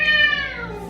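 A neighbor's cat meows at a door, one loud, close, drawn-out meow that slides downward and fades.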